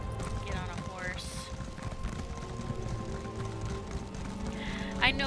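Horse hooves clip-clop at a gallop in the video game Elder Scrolls Online, a steady rapid patter at moderate level with a brief whinny-like sound near the end.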